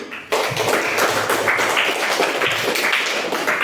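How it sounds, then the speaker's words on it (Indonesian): Classmates in a school session applaud a group's presentation: a sudden onset of steady, close clapping that carries on evenly after a brief quiet start. "Berikan tepuk tangan dulu."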